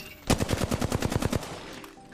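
Light machine gun fire in the video game Apex Legends: a rapid burst of about fifteen evenly spaced, punchy shots lasting just over a second, loud and close, followed by a faint tail.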